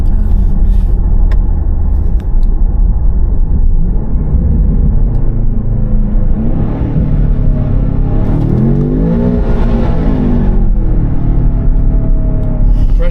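The 635bhp engine of a Range Rover Sport SV drones loudly and continuously in a tunnel, swelling into a rising, revving roar near the end, with no talk over it.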